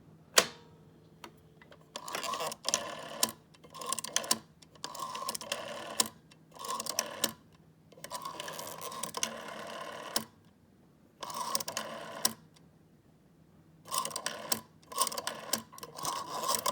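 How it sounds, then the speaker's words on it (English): A rotary phone dial turning and returning, giving repeated clicking pulse bursts with short silent gaps between each digit, close and alone. "the dial, it makes a pulsing sound into the phone."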